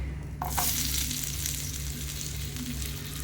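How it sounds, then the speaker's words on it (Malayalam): Onions sautéing in oil already used for frying mussels: close, steady frying sizzle with a soft hiss throughout, a brief clatter near the start, and a low hum underneath; no speech. "ഇതേ എണ്ണയിൽ തന്നെയാണ് ഞാൻ സവാള വഴത്തുന്നത്"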